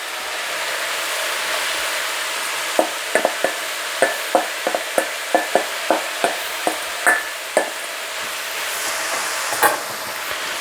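Onions and sliced leek fry in a pan, a steady sizzle broken by a run of sharp scraping taps as a utensil stirs them, then the sizzle settles again.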